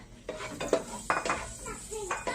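Metal utensils clink and scrape against a pan as garlic goes in for dark soy sauce fried rice with chicken, with soft sizzling between the knocks.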